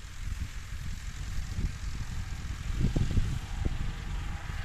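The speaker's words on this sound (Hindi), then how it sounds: "उसमें अभी ट्रैक्टर चल रहा है" A tractor works a farm field, levelling the soil for planting coriander. A steady low engine drone rumbles throughout at moderate distance, swelling slightly midway.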